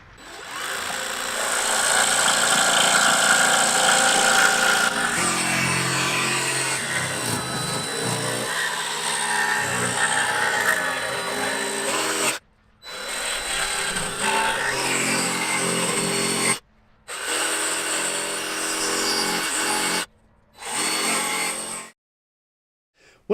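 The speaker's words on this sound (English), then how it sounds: "and now I'll cut it out with the jigsaw" A jigsaw cuts through a plywood lining board in a DIY campervan, a loud steady buzzing rasp that runs for about twelve seconds, then continues in several shorter bursts separated by brief pauses before stopping.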